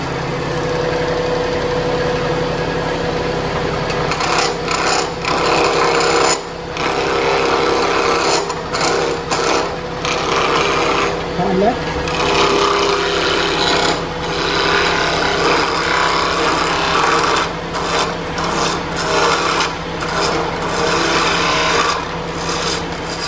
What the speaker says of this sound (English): I'm going to get my lathe going at the fastest speed I can.